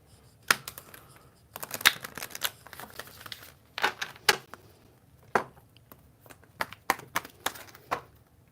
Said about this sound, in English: These cards are slick, so sometimes they don't shuffle